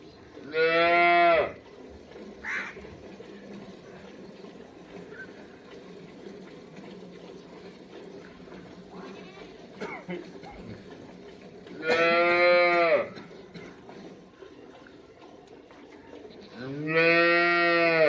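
Cholistani Friesian cross cows and a calf in Pakistan moo three times, each a loud, close, drawn-out call spaced several seconds apart, with a low, quiet farmyard background in between.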